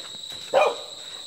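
A dog gives a single short bark a little way off, standing out briefly over a steady high-pitched electrical whine and quiet background noise.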